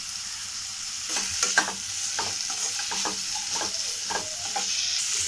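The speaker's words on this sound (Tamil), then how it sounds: "1/2 ஸ்பூன் கசகசா, 1/2 ஸ்பூன் எள்ளு, கூடவே ஒரு 5-6 முந்திரி பழம் ஆட் பண்ணி நல்லா வதக்கிக்கலாம்" Poppy seeds, sesame seeds and a few cashews sauté in a pan, giving a steady sizzle broken by scattered scraping stirs and small crackles, close and moderately loud, with no voices.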